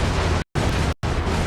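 Explosions roar through the action game Crackdown 2 as loud, dense, rumbling blasts, cut by two short silent gaps.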